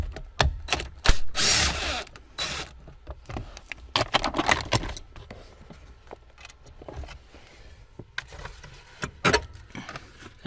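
A power tool rattles in short, close bursts, unbolting brackets on a 2015 Subaru Impreza Sport hatchback, with clinks of metal and tool handling between the runs.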